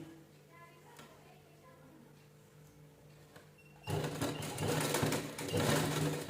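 Sewing machine stitching a trim strip onto a blouse neckline: a quiet hum with soft clicks at first, then a loud, steady rattling run of stitching that carries on to the end.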